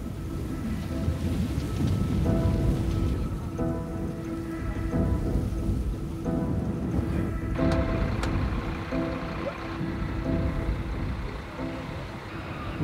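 Steady heavy rain pours over the charred remains of a wildfire-ravaged town, with rumbling thunder rolling beneath the constant hiss of drops hitting surfaces.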